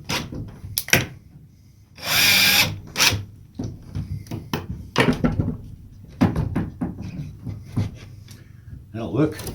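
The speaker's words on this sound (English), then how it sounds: "Now I'm going to put some screws in." A power drill drives screws into a wooden shed workbench, giving a loud whirring burst followed by shorter drill pulses and clunks of wood handling, with someone talking between them.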